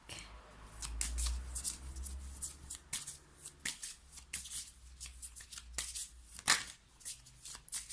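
A deck of playing cards being shuffled, with repeated crisp riffling bursts and flicks at close range over about eight seconds, sounding alone with no voices.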